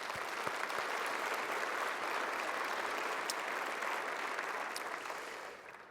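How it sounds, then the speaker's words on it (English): An audience at a foundation symposium gives a round of applause, steady dense clapping filling the room for about six seconds before tapering off at the end. "let me just ask for one more round of applause"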